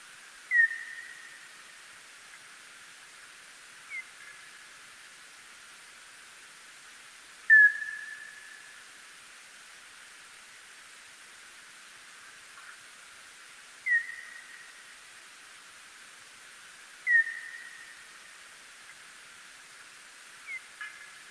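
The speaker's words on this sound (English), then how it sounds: "this is a noctual, very long, low frequency calls" Noctule bat echolocation calls, made audible, sound as a sparse series of long, low whistling chirps, about six spaced several seconds apart, faint and clear over a soft hiss with no talking.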